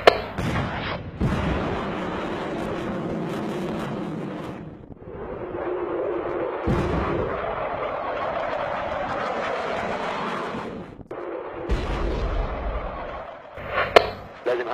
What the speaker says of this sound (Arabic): سلاح ثقيل أخي